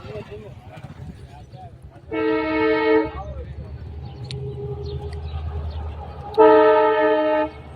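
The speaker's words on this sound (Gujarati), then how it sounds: "રસ્તામાં થોડીક માલગાડી નીકળી ગઈ છે" A train horn blares twice in long tones while a freight train rumbles past a closed level crossing nearby, with people talking in between.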